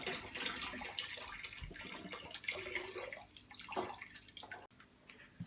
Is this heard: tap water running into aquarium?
yes